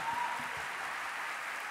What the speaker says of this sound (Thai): ขอเสียงปรบมือต้อนรับโรงเรียนสาธิตมหาวิทยาลัยศรีนครินทรวิโรฒประสานมิตรฝ่ายมัธยมครับ